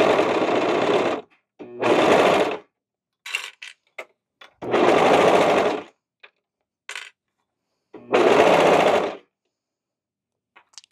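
A sewing machine stitches and trims the edge of cardigan fabric in four loud bursts of rapid whirring, each about a second long, separated by short clicks and silence.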